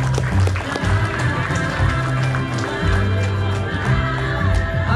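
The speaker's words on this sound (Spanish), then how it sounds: "¡Aplausos!" Crowd applauding at a quinceañera party, steady dense clapping mixed with a loud low hum of music and room noise throughout, fairly close and continuous.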